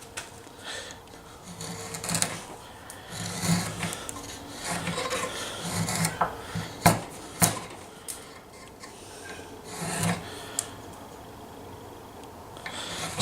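A chisel is being tested on a scrap of Tassie oak. It pares and scrapes at the wood in uneven rasping strokes, with sharper knocks here and there, close up and without speech.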